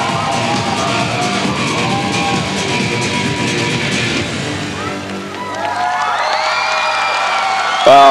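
A large audience at a 1999 European fitness championship in Hungary cheers and whoops loudly, dips briefly, then surges again with sharp whistles and shouts near the end.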